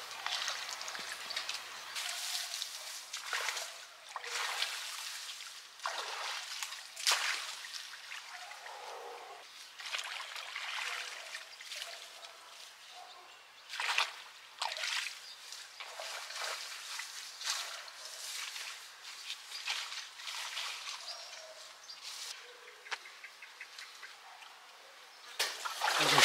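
River water near a watermill in rural Portugal trickles and splashes faintly, with scattered bursts of flow and drips rising and falling irregularly against a quiet background.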